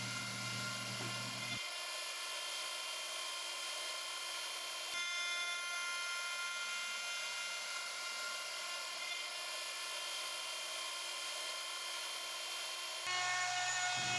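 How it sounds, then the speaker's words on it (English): A CNC machine trims the edges of a solid surface countertop for a bathroom vanity, giving a steady high-pitched whine that runs throughout with small shifts in pitch and load, loud and with no talking. "Now it's back to the CNC machine to clean up the edges."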